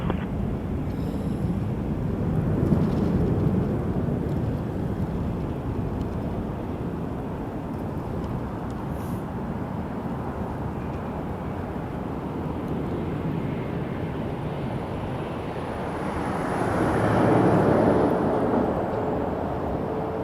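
A Porter Airlines plane at Toronto Pearson Airport rumbles as a steady, broad roar throughout, swelling somewhat louder toward the end as it passes, with wind buffeting the microphone.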